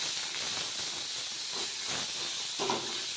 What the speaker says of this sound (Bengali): মশলাগুলো সব দিয়ে দেবো একবারে এগুলো আমি ভেবেছিলাম সবজিটার মধ্যেই দিয়ে দেবো বললাম যে না মশলাটা কষিয়ে নিই